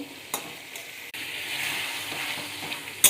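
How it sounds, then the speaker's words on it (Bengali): Eggplant in mustard paste sizzles steadily in a pan while a spoon stirs it, giving soft scraping strokes and a couple of sharper clinks over the continuous frying hiss, close and fairly quiet. "ভালো করে নাড়াচাড়া করে নেব এটাতে বেশি জল দিতে হবে না"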